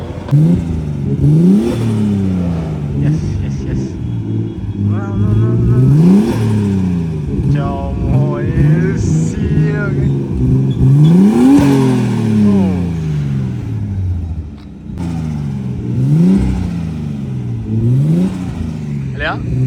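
A supercar engine revs hard and pulls away at a Kerala supercar meet-up, with repeated rising and falling revs and gear changes, loud and close, while people talk over it.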